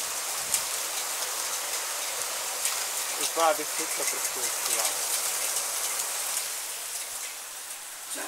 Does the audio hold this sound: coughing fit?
no